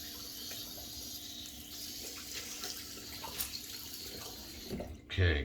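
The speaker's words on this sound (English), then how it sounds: "let me rinse off my washcloth with the cold water now." Cold water running from a tap as a washcloth is rinsed under it during a wet shave, a steady close splashing hiss with a brief louder clatter near the end.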